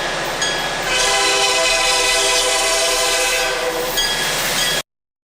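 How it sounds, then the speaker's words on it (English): A Kansas City Southern train led by locomotive 703 arrives in downtown Beaumont with its horn sounding over a steady heavy diesel rumble and rolling wheels, loud and close until it cuts off abruptly. "Number 703 arrives in downtown Beaumont with train number 41 in"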